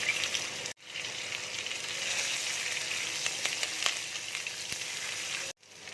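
Raw plantain added to hot mustard oil seasoned with nigella seeds sizzles in a steady, soft frying hiss, broken by two brief gaps, with no talk.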